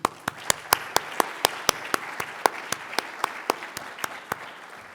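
Sharp, evenly spaced hand claps ring out about four per second at a medical college convocation, loud and close with a roomy echo, no talking over them.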